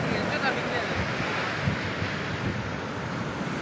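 Sea waves washing in steadily at Padubidri beach near Mangaluru, a continuous broadband roar of surf mixed with wind buffeting the microphone, close and fairly loud with no speech.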